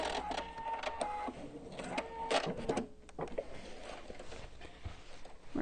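A sewing machine lock stitches a self-binding placemat, backing up and going forward a few stitches; the close, rapid mechanical stitching stutters and restarts in short bursts with brief pauses between runs.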